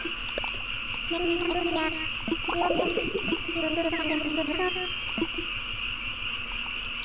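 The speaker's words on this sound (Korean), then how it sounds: "여러분 지금 개구리 소리 들리죠?" A steady chorus of frogs croaking from rice paddies near a house runs continuously in the background, overlaid by closer game music and chirpy game sound effects.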